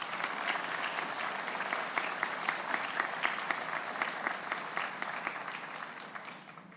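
Graduating students at a 2024 high school commencement receive a round of applause: dense, steady crowd clapping at moderate volume with some sharper claps rising above, easing off at the end.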